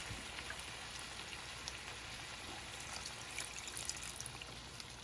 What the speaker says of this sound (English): we're going to pour in a little bit of water